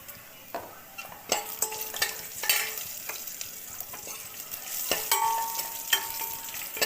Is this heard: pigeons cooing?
no